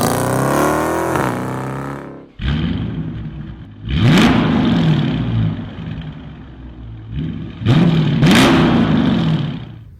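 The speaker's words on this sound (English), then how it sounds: "I will show you guys a few little video clips of my exhaust" A Dodge Challenger R/T muscle car's exhaust rumbling at idle, then revved in three sharp bursts that rise and fall back to a deep burble, loud and close with no talk.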